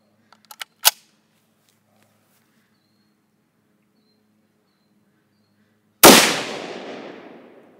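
Rifle fired with iron sights outdoors: a few faint clicks and a sharp crack, then after a quiet gap a single loud, close gunshot with a long fading echo, and no talk.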